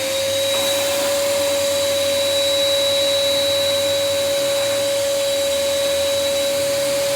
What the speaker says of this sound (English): we're going to vacuum out and just take a vacuum over the